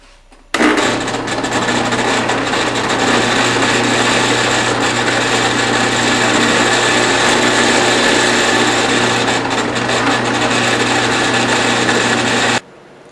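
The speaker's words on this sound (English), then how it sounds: "I'm going to go ahead and start cutting these entry holes around this pattern" A power drill bores entry holes through wood around a scroll-saw bowl pattern, giving one steady, loud, close whine that runs unbroken for about twelve seconds before cutting off.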